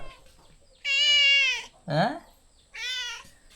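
A cat meows three times close by, two long drawn-out calls framing a shorter, lower one, with quiet pauses between.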